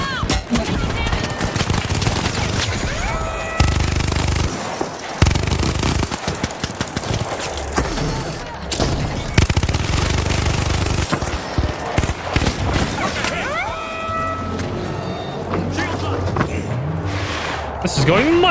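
A minigun fires in a video game battle, long continuous rattling bursts broken by short pauses, loud and close, with mechanical whirring, other game noises and a voice talking over it.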